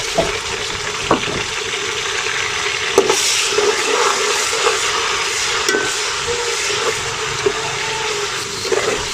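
Red tomatoes hit frying masala and chilies for aloo pulao, giving a loud continuous sizzle broken by repeated spoon clanks and stirring knocks against the pot.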